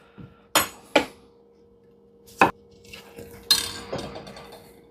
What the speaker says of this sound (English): the first thing I'm going to do is cut up a zucchini, kind of julienne or French fry size